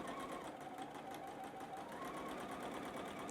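A sewing machine stitches quilt fabric at a steady, fast, even whir, with its needle mechanism chattering rhythmically. It sounds close and continuous for the whole stretch, with no talking.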